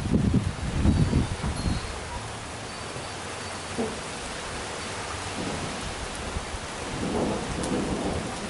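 Deep thunder rumbles roll through a strong sunset thunderstorm, with heavy low booms near the start and softer distant rumbling later, over a steady hiss of rain.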